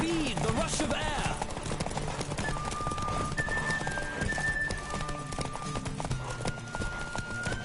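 Horse galloping in The Witcher video game, with rhythmic clip-clop hoofbeats at a steady pace under game music and a brief neigh, with a voice talking over it.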